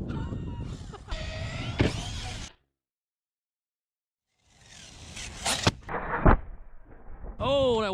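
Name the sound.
ARRMA TLR Typhon RC car jumping and landing on asphalt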